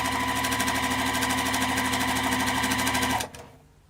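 A sewing machine stitches fabric with a fast, steady mechanical whir and rhythmic needle clatter for about three seconds, then stops abruptly, leaving near silence.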